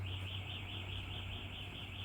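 A bird sings outdoors near a home kitchen, holding a faint, continuous wavering trill over low background hum.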